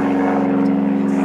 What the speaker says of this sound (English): plane pulling a glider